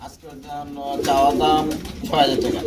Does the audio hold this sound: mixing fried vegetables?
no